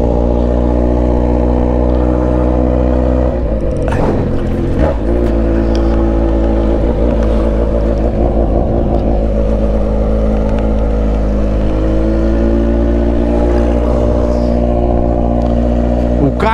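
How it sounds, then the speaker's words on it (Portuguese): A Kawasaki Z900RS motorcycle with a loud aftermarket exhaust rumbles close and loud, idling deep then blipping the throttle in a few sharp revs, with a voice talking briefly over it. "Colocou um escapamento louco da moto dele"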